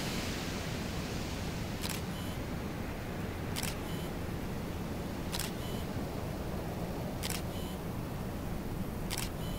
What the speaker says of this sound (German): Jetzt werden Fotos geschossen hier